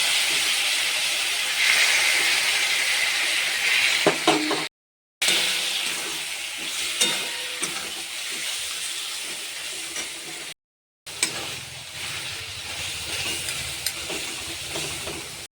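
Hot water poured into a cooking pot while making a home-cooked Bengali dinner, giving a steady close hiss and sizzle of steam that runs throughout, broken by two short silent gaps.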